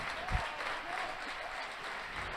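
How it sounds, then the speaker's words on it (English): Audience applause after a kata performance at a karate world championship, a soft steady patter of clapping from a crowd, fairly distant, with a low thump near the start and faint voices underneath. "It's a great applause from the audience here."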